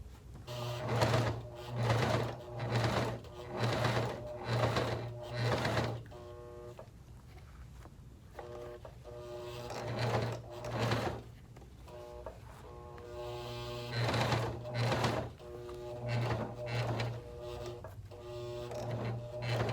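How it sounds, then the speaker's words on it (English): A Janome leather sewing machine runs in repeated bursts of stitching, each lasting about a second, with short pauses and a steady mechanical whir between runs at moderate loudness. "If you are a person looking for a good leather sewing machine"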